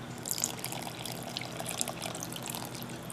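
Half a cup of water pours steadily into a saucepan of granulated sugar, a continuous close splashing trickle with no talk.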